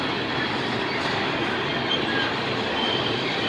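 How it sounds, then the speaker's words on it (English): A mixed freight train carrying intermodal cars rolls past close by, producing loud steady rumble and rail noise with faint wheel squeal, and no voices. "there's some intermodal stuff on this mixed freight"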